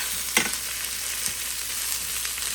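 Lamb chops fry in butter in a pan, a steady close sizzle with a few sharp spatters and faint stirring, no voices.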